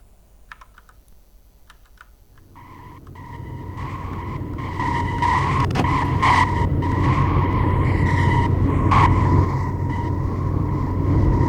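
A car in a video game drives with a steady engine roar and tyre skidding that swells in after a quiet start, then holds loud and continuous, with light tapping early on.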